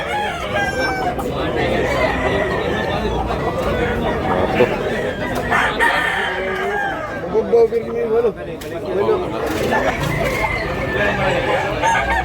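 Roosters crowing amid a busy chicken market at Tabunok, Cebu City, several overlapping crows and clucks rising above dense crowd chatter and people talking nearby throughout.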